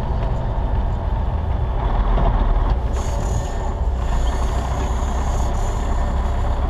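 Big rig truck idling and creeping while practicing parking at a truck stop, a steady low diesel rumble heard from nearby with faint rattles and shifting noise.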